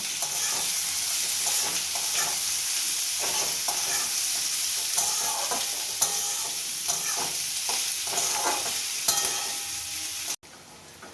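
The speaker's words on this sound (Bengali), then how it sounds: "এবং বেশি আঁচে পেঁয়াজটা কষাতে থাকবো।" Salted onions frying on high heat, a continuous loud sizzle with repeated stirring scrapes and clinks throughout, close up and without speech, cutting off near the end.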